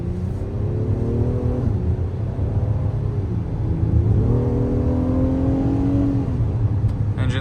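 The 3.5-liter V6 of a 2025 Acura MDX A-Spec Advance pulls hard from inside the cabin, its steady drone climbing in pitch, dropping at a gear shift, then rising again to a second shift.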